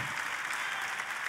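Steady, dense applause from a church congregation at a sermon, a continuous wash of clapping held at even strength throughout.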